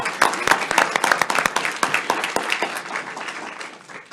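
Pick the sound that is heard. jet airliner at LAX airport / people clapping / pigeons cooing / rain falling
people clapping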